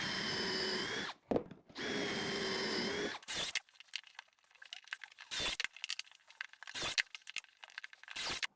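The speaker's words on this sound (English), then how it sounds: "we're going to take our little 1x2s here and we're going to put pocket holes in them" A pocket hole jig guides a drill into 1x2 boards, with two sustained whining drill bursts followed by quieter handling clicks and rustles from the workpiece.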